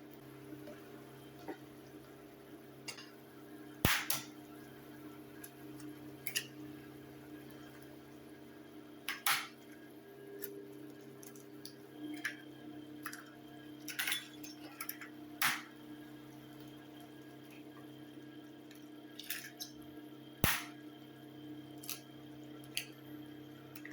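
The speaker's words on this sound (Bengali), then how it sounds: "এখন এটাকে লো হিটে রেখে আমি আস্তে আস্তে ডিমগুলি ছাড়বো" Eggs slipped one at a time into egg curry spiced with cloves, in a pan on low heat: faint soft squelches and drips at scattered intervals over a quiet, steady background.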